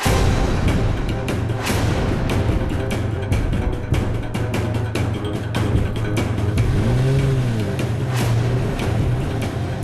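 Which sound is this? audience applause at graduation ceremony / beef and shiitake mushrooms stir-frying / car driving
car driving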